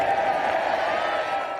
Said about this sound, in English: The arrest of the Just Stop Oil campaigners met with cheers.